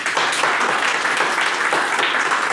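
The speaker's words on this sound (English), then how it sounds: "So let's give Michelle a round of applause." Studio audience giving a round of applause to welcome Michelle forward at a healthy-eating talk; loud, dense, continuous clapping with no gaps.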